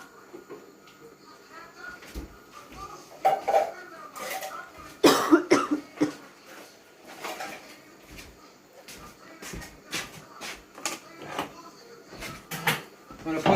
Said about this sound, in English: I apologise to my camera person there coughing every 5 minutes